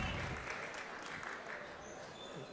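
Guests at a bar mitzvah celebration applaud in a steady, dense wash of clapping that fills the room at moderate distance, fading slightly toward the end.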